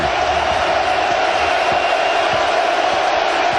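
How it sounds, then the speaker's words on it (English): A roaring stadium crowd at an NFL game between the Tampa Bay Buccaneers and Seattle Seahawks, measured at 108 decibels. The dense, loud, unbroken wash of noise holds steady throughout. "Listen to this crowd. The decibel level at 108."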